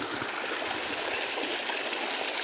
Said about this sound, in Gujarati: આ બોરનું સેક્શન છે, કોલમ દ્વારા પાણી પડે છે અંદર